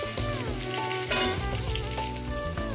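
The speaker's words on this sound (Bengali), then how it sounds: "সবজিগুলো আমার ভাজা হয়ে গেছে" Pieces of pointed gourd and potato fry in hot oil in a pan, giving a steady, close, loud sizzle that runs unbroken through the short moment with no talking.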